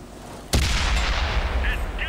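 Tank cannon in the World of Tanks video game fires a single sharp, loud blast, which then rolls into a booming low rumble that lingers for over a second.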